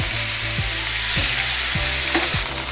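Browned meat pieces fry in a pan as a loud, steady sizzle, with about five evenly spaced stirring or scraping knocks underneath. No one speaks.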